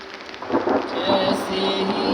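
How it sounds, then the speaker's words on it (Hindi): Thunder rumbles steadily through heavy rain in a hillside village surrounded by forest, a loud, continuous roar with no voices. "अभी बादल गरज रहे हैं।"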